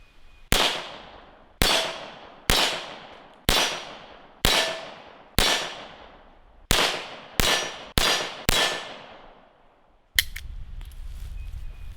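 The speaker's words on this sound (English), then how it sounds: "let's go warm up with a few shots" A Nagant revolver fires warm-up gunshots outdoors in a forest: nine sharp, loud cracks at uneven intervals over about ten seconds, each trailing off in a short echo, then a steady low rumble of wind or handling noise.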